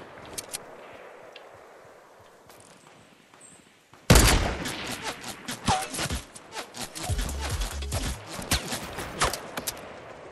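Gunfire erupts in Fortnite after a quiet opening, with rapid bursts of close, sharp shots and impacts repeating densely through the rest of the clip.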